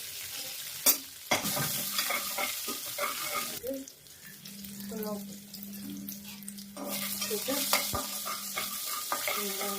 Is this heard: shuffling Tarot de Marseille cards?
no